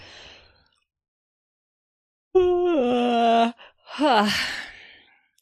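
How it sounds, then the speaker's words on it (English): A person gives one long, drawn-out yawn that rises and then falls, followed by a breathy sighing exhale, close and clear in a quiet room. "Now I have to yawn."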